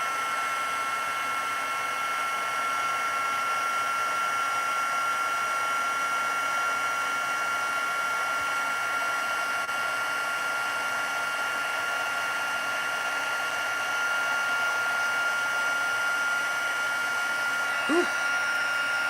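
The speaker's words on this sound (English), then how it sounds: "I'm going to grab my heat tool and heat this gold up, gold embossing powder." A heat tool blows steadily for a long stretch while melting gold embossing powder on a stamped card, a constant close whirring hiss with an even level throughout and no talk.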